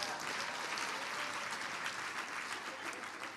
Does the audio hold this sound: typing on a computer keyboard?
no